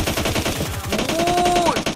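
Rapid automatic gunfire in PUBG Mobile, a dense stream of close, evenly spaced shots that rattles without pause for about two seconds, with a brief whistling tone over the bursts.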